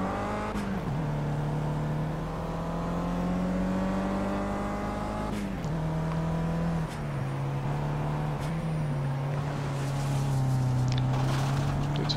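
A BMW race car in the racing game Project Cars accelerates ahead, its engine giving a steady, loud droning whine that shifts pitch several times as it runs continuously through the whole stretch.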